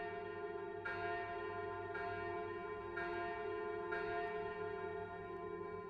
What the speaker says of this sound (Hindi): तभी तीसरी बार घंटी बजने लगी